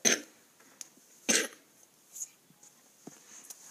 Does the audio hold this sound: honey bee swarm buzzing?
no